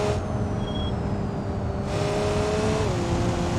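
A BMW M5 engine in BeamNG.drive hums steadily under load, its tone holding then dropping slightly near the end as revs shift, close and continuous with no talk.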